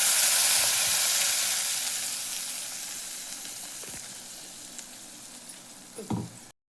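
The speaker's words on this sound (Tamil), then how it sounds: "இப்போ இது நல்லா கொதிச்சிட்ருக்கு." Tomato chutney with asafoetida and curry leaves bubbling and sizzling in hot oil in a pan, a steady bright frying hiss that slowly fades, with a few soft stirring knocks near the end.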